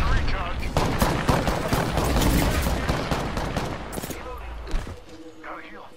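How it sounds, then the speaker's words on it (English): Enemy gunfire in Apex Legends rattles in dense, overlapping bursts through most of the clip, loud and sustained, then thins out near the end, with a player's voice talking over it. "The enemies are shooting at me."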